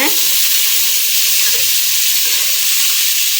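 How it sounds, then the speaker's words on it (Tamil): Onions fry with ginger garlic paste in oil for chicken biryani, giving a loud, steady sizzle with bubbling hiss and occasional stirring scrapes throughout. "ஆனியன் நல்லா வதங்கி வரட்டுங்க."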